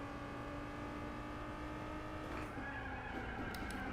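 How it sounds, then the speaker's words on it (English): Engine note from a car in the Gran Turismo 4 racing game, a steady sustained drone with a slight pitch shift and brief tire-like squeals near the end, no talking. "Also, new engine sound."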